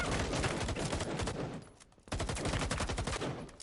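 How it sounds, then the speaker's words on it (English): Dense, continuous automatic gunfire from a Rainbow Six Siege pro league match, loud and sustained with rapid overlapping bursts, a brief dip in the middle before the shooting resumes just as intensely. "Oh, we got some gunfire happening."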